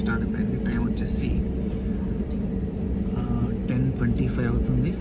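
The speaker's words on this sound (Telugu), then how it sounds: "ఫ్లైట్ అయితే స్టార్ట్ అయిపోయింది" A passenger airplane's engines give off a steady, heavy low rumble inside the cabin just as the flight starts, with people talking throughout over the drone.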